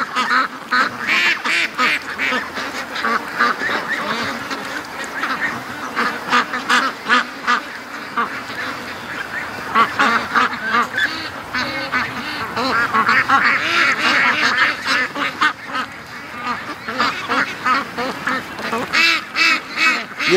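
Free-range ducks and geese quack and honk continuously up close, a dense overlapping chorus of calls with frequent loud bursts throughout.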